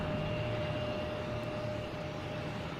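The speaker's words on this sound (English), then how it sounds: "All right, we have Iberia coming in from Madrid." An Iberia Airbus A321neo on arrival from Madrid into Boston Logan makes a steady broadband engine roar with a faint whine on top, constant and moderately loud for about three seconds.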